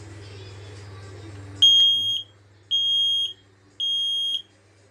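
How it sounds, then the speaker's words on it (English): A household smoke alarm sounds during a button-press test: three loud, piercing electronic beeps of about half a second each, evenly spaced, cutting in after a low steady hum and faint background noise. "this is going to be a test of the smoke alarm"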